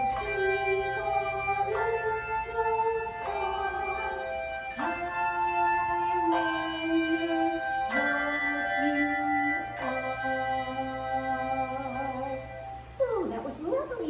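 Handbells played by a bell-ringing group, a series of bright sustained tones struck in a steady melodic sequence, each ringing on and overlapping the next, fairly close and clear with no talk over them.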